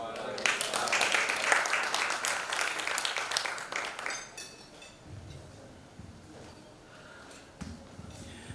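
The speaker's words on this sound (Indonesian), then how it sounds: "Kita berikan tepuk tangan sekali lagi untuk Bapak Sujatmaka" Audience applause at The Best CEO 2023 event honouring the editor-in-chief of SWA magazine, dense and loud for about four seconds, then thinning into scattered claps and room noise.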